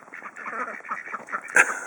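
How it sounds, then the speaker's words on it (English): Cartoonish duck quacks from the Hay Day farming game, a busy run of close, repeated calls over steady game ambience, with one louder quack near the end. "These crazy ducks."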